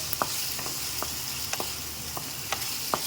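Macaroni masala is stirred in a pan over a low flame, with a soft continuous sizzle broken by a series of light scraping and tapping strokes of the spoon at irregular intervals.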